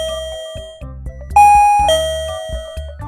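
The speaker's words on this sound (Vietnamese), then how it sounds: "bây giờ chúng ta sẽ bấm nút bấm ở ngoài thì chúng ta sẽ test âm thanh" A Kenrui KR-M525 wireless doorbell chime plays a clear, loud melodic ding-dong tune of several bright tones, ringing alone in a quiet room.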